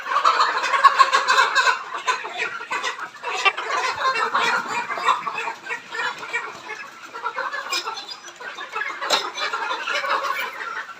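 Layer hens on a poultry farm cluck and squawk continuously during beak trimming, a dense flock chorus of agitated calls rising and falling, close and fairly loud.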